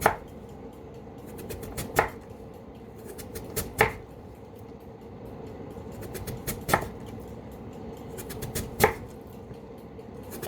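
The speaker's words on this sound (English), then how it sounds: "And I'm going to make really thin slices." A knife slices potatoes thinly on a cutting board, giving crisp, sharp knocks at irregular intervals, roughly every second or two, close and fairly quiet against a steady low background hum.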